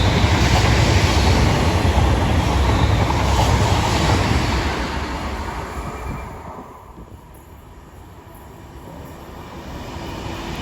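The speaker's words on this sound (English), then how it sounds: "An LNWR Class 350 heads north down south." An LNWR Class 350 passenger train heads north on the West Coast Main Line, passing close as a loud, steady rushing roar that eases off after about six seconds into a quieter rumble.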